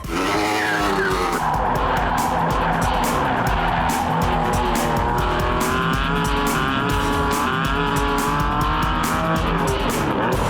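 British supercar prototype driven hard around a racetrack, its deep engine note roaring steadily with tire squeal and skidding throughout, loud and close for the whole stretch.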